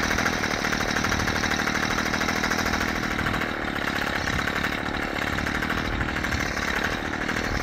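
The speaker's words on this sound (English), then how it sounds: "Trim this hedge." Hedge trimmer cutting a garden hedge, a steady continuous motor buzz with a rapid chattering blade rattle, loud and close throughout with no pauses.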